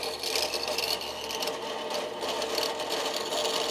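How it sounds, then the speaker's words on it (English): A saw blade cuts through material during an aircraft cowl and firewall build, producing a loud, continuous, buzzing mechanical whine that holds steady for the whole stretch without a break. "I'm just letting the blade cut. Sorry, it's loud."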